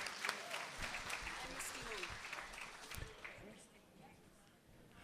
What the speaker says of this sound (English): Give a round of applause for Penny McPherson